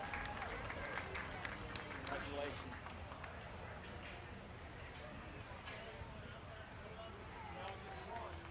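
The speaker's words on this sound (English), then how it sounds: "Let's give both these young ladies a nice round of applause" Audience at a youth swine market show applauds two young exhibitors, a sustained faint round of clapping from a crowd in a show arena, with a loud announcer voice carrying over the hands.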